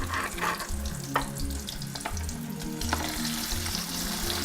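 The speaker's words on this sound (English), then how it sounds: "Can you hear that sizzle? That's how hot it is supposed to be." Fish frying in hot oil for a turmeric fish dish, with a loud, continuous close sizzle and crackle with scattered pops throughout.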